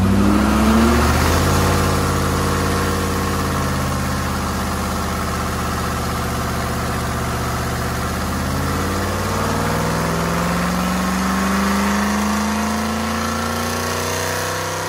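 A Rover 3.5-litre V8 in stage 1 tune, with later 4.6 ten-bolt cylinder heads fitted, running steadily close up, its loud continuous drone rising and falling gently in pitch as the revs vary.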